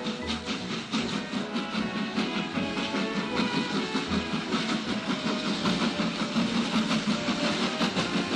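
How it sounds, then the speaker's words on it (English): A steam engine chuffs away in a rapid, steady rhythm with a rumbling clatter underneath, moderately loud and continuous throughout. ""Bye, little Edward," said Gordon as he puffed away."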